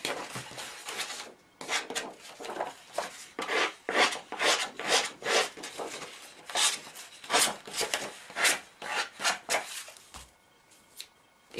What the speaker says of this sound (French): On peut user un peu les bords avec un ciseau.